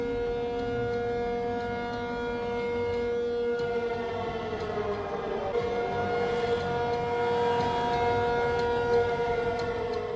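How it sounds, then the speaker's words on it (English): Air raid sirens wail over Taipei, a loud, sustained tone rising and falling gently, carrying across the city with no voices heard. "Air raid sirens blaring across Taipei's skies."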